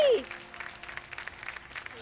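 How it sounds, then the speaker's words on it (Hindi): Family and neighbours clap for a father and daughter after a society badminton match, a steady scattered applause running throughout with bits of voices mixed in. "जरा जम के ताली बजाइए।"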